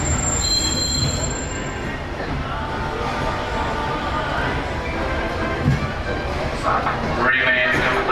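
A Magic Kingdom park train pulls into the Main Street station, its wheels squealing and rails rumbling steadily throughout, with a high metallic screech at the start and a loudspeaker voice talking over it.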